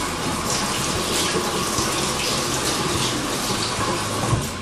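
Running tap water pours steadily over a sterilized spoon during a quick rinse at a winemaking setup, a broad continuous splashing hiss heard close and alone for several seconds.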